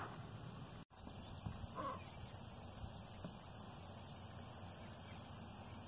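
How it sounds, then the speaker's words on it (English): Crows caw faintly in the distance over a steady hiss of outdoor background noise, a few scattered calls across the stretch. "Sometimes you just have to stop and hear the birds."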